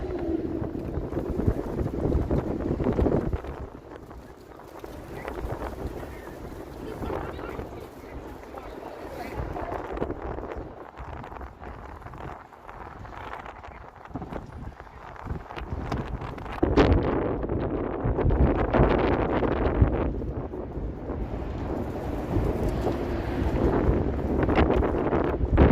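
Wind buffeting a microphone outdoors on a windy summer evening in Toronto, a loud continuous rumbling roar that surges and eases, with someone speaking at times beneath it.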